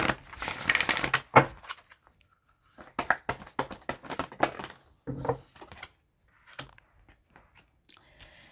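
A tarot card deck being shuffled close up, with bursts of crisp riffling and rustling card noise separated by short pauses, no talking.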